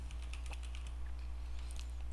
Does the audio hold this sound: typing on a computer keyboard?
yes